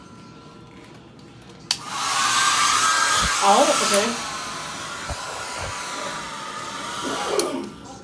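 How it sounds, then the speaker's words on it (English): A hotel room blow dryer in a Las Vegas hotel switches on and runs as a loud, steady whir for several seconds, with a few quiet spoken words over it. "They have a blow dryer"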